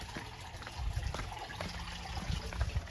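Dirty water trickles and gushes into Gajpad Kund, a stone water tank on Girnar mountain, a soft, close, continuous flow with no one speaking.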